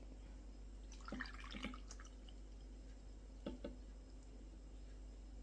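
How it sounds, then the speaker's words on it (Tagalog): Water trickles and drips into a glass in a couple of short, soft pours, faint and close against a steady low background hum. "Tapos, lagyan natin ng tubig."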